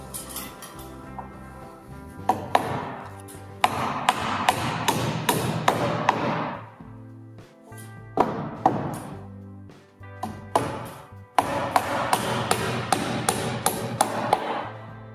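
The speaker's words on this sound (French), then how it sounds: "Et ainsi de suite, on les cloue tous une par une" Sharp hammer blows drive nails into the roof boards of a flat-roofed Tendille garden shed, struck in quick irregular bursts with short pauses between nails, close and loud, with light metallic taps.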